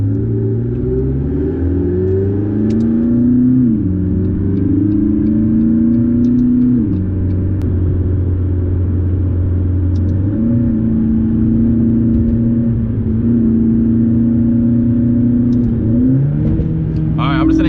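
A V8 supercar engine with an 8500 rpm redline drones loudly up close, climbing in pitch through several gear changes and settling between pulls, a steady mechanical roar throughout.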